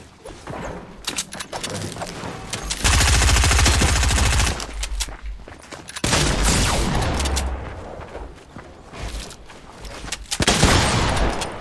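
Fortnite gunfire during a match, with dense sustained bursts of rapid shots alongside heavy booming blasts that come in several loud, close clusters separated by quieter gaps, with no talking.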